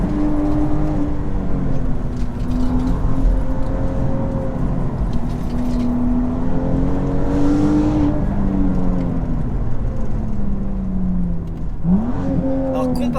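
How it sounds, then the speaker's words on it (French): BMW M2 rear-wheel-drive coupe engine pulling hard under throttle, a steady loud in-cabin drone with rising and falling pitch as revs climb and ease, continuous throughout. "si je réaccélère un peu fort, elle va chercher un peu"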